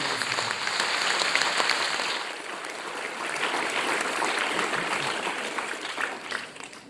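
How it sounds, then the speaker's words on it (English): Sustained applause from an audience at the 48th Shakes boys' final results and awards presentation in 2023, a steady wash of clapping that dips slightly midway, then carries on evenly. "Could we please have another big thundering round of applause?"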